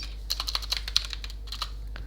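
Quick keystrokes on a computer keyboard, typing a short Thai greeting into a chat, come as a run of close, light clicks in uneven bursts over a faint steady hum, with no voices.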